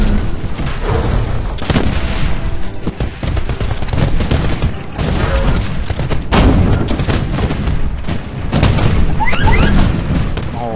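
Titanfall match played on low settings: repeated loud explosions and bursts of gunfire crash through the mix in quick succession, with heavy booms over sustained battle noise.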